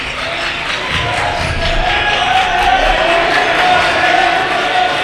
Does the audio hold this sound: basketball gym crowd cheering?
yes